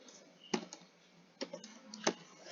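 Computer keys struck three times at roughly even intervals, each a sharp, close, moderately loud click over a quiet hiss as the enter and tab keys are pressed while writing a MATLAB program.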